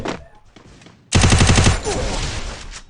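Rapid bursts of automatic gunfire in the Free Fire mobile battle royale game, a sudden loud rattling string of shots after a quieter opening, continuing densely to the end.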